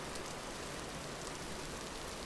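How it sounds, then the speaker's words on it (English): Steady rain falls in the video game Vintage Story, a dense, even hiss of drops that stays level and unbroken throughout, with no voices. "It's pretty rainy"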